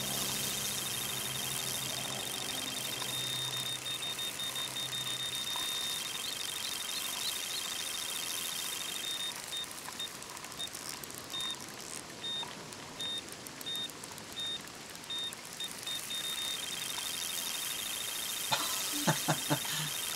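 Electronic carp-fishing bite alarm in the Euro Fishing video game, a thin repeated high beeping tone running through a steady hiss of game ambience, with a short burst of clattering near the end.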